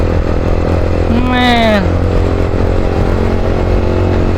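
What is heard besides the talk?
Yamaha R15 motorcycle engine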